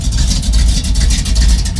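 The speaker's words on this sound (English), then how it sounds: "And then the exhaust itself is 3-inch tubing into a single 3-inch Y, back to a Flowmaster 40 with dual 2¼ outlets dumped in front of the box." A carbureted Ford F-150 with a 5-liter V8 and 3-inch exhaust into a Flowmaster 40 muffler with dual outlets rumbles loud and close, a deep steady throb with slight surges as it revs.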